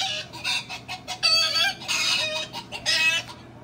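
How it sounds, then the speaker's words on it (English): A hen, a female domestic chicken, clucks in a quick series of close, loud calls, with a few drawn-out squawks mixed in. No other sound competes. "A hen is a female chicken."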